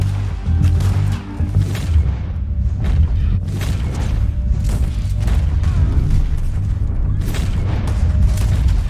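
Gunshots boom in a Red Dead Redemption 2 shootout, loud heavy blasts repeating irregularly over a dense rumbling game soundscape with no clear pauses.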